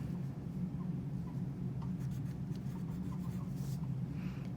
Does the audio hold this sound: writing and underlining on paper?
yes